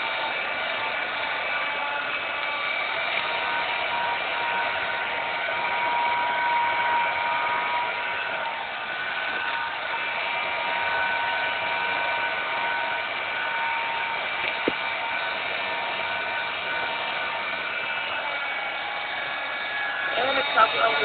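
Heat blower shrink wrapping cured handmade soaps, a steady loud whooshing, hissing airflow drone that runs unbroken and close by, with a few faint handling clicks near the end.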